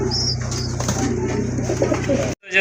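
Pigeons, including Lahori and fancy breeds, coo repeatedly close by in a loft, soft throaty calls layered over a low steady background hum, ending in a sudden cutoff.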